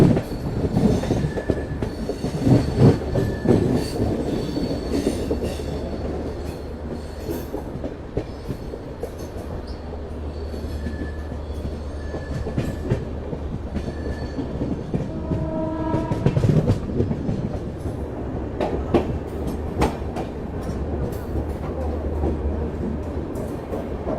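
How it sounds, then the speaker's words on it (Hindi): The Shatabdi Express rolls into Gwalior station, a loud, continuous rumble of rail cars with rhythmic wheel clatter, squealing wheels and a horn sounding midway, heard up close. "चलो भाई ग्वालियर पहुंच चुकी है अपनी शताब्दी एक्सप्रेस"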